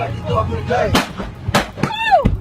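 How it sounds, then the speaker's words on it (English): Several sharp gunshots, about three, ring out over a couple of seconds at a shooting of a man, mixed with raised voices and a wailing tone. "You shot 4 bullets into him, sir."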